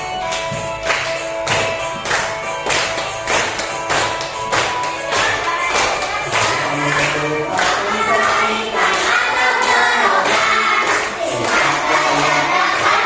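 Children in a fourth-grade classroom lesson clap along to a song, sharp claps repeating in a regular beat over the music, close and fairly loud throughout.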